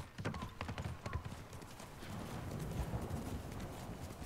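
Horse hooves clip-clopping in the Ghost of Tsushima video game, a quick run of close, loud hoofbeats settling into a rumbling gallop.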